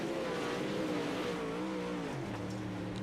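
Dirt race cars roaring around Limaland Motorsports Park in iRacing's WarHorse DIRTcar Series, a thick layered engine drone with pitch wavering as cars jostle, steady and loud with no talk.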